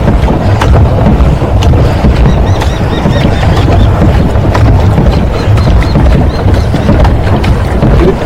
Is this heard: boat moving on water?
yes